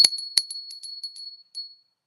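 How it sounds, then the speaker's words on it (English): A small bell is rung: a bright, close strike followed by several lighter ringing taps that fade out, heard alone. "I'm going to ring the bell"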